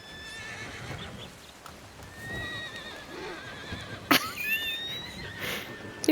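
A horse in the Red Dead game gives a loud whinny near the end over soft hoof clip-clop and faint ambient background, with no clear talk.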